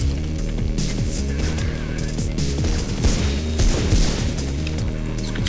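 Machine gun fire in the video game Mirror's Edge comes as loud, rapid bursts of gunfire that run throughout and are layered over a thumping, rhythmic game soundtrack.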